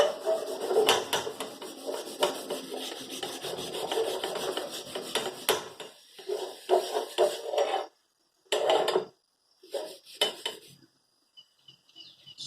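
Kitchen towel rubs hard over a cast iron tawa coated in thick seasoning, making close, raspy wiping strokes in quick repeated bursts, then a few separate swipes with short pauses.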